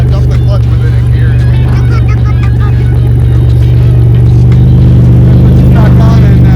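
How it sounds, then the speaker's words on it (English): A Pontiac Fiero with a 3.8 V6 swap, engine loud and close, holding a steady low roar that builds slightly as the car pulls away. "Dumped the clutch with it in gear."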